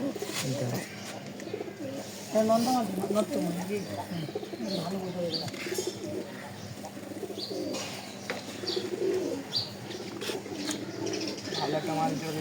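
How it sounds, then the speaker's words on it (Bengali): Pigeons in a keeper's loft coo repeatedly, with soft chirps and some wing noise, while people talk close by over the birds. "আসেন কবুতর দেখে আপনাদের কয়েকটা।"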